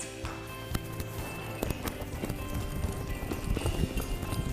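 Hooves of a mare clip-clopping on the ground while working cattle, a loose run of thuds and knocks amid outdoor rumble and noise.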